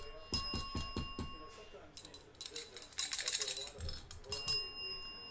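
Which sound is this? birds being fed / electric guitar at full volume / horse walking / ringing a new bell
ringing a new bell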